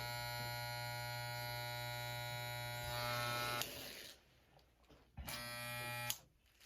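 An electric beard trimmer runs close up while edging a mustache, a loud steady buzz that cuts off and starts again in bursts, and no one speaks.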